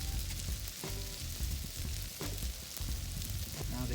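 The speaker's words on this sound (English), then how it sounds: "Now the eggs cook up really fast on this grill." Eggs fry on a hot teppanyaki griddle grill with a constant, close crackling sizzle, while faint scraping and clatter sound underneath.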